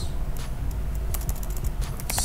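Someone types on a computer keyboard, a run of scattered, fairly quick key clicks over a low background hum, close and faint, with no voices.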